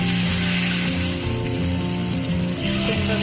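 Egg chips fry in hot oil, a continuous loud sizzle and crackle that holds steady throughout, close up, with no talking.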